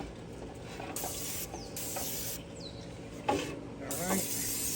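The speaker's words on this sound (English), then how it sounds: "I'm gonna spray my onion rings with a little bit of Pam cooking spray" Pam cooking spray misted onto onion rings beside a Blackstone griddle, heard as a few short hissing bursts over a steady background sizzle and hum.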